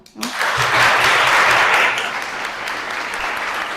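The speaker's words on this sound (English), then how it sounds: "give a huge round of applause to all of you" An English class breaks into a loud round of applause, dense clapping that swells quickly, peaks, then eases slightly while continuing steadily.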